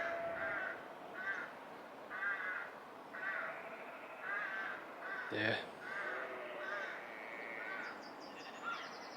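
Crows caw repeatedly in a Scottish village, coming in regular bursts of harsh calls at moderate distance over outdoor ambience. Other birds chirp faintly, and a person speaks briefly partway through.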